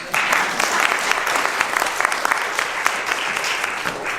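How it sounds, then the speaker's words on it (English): A forum audience gives a sustained round of applause for the organizers, steady dense clapping from a roomful of people throughout, with crisp individual claps standing out near the front. "Can you join me in giving them a round of applause?"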